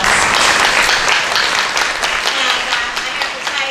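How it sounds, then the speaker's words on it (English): Audience applause at a Plan Bay Area community workshop in Marin, a steady dense wash of many hands clapping that stays loud and close for the full stretch without a break. "Let's give Brad a round of applause."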